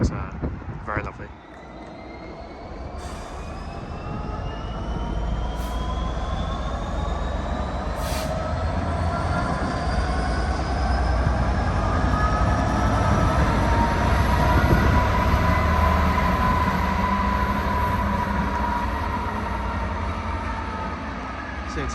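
A Class 43 HST diesel train roars past close by at Bristol Temple Meads, its engine droning loudly and steadily with rumbling wheels and a faint squeal, fading slightly at the end.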